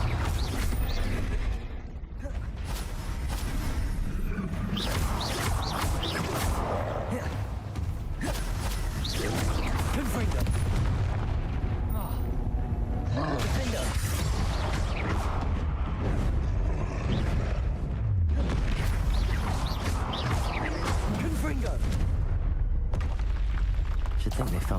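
Confringo fire spells blasting in the Hogwarts Legacy video game, with loud, dense booming bursts and rumbling eruptions in quick succession amid mechanical creaks and game effects, continuing throughout.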